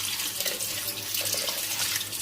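Tap water runs steadily into a sink while goat trotters (paya) are washed, a continuous close hiss and splash with faint clatter beneath.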